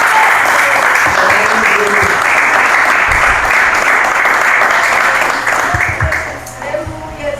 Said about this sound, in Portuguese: Palmas de vitória e glória alta ao nosso Senhor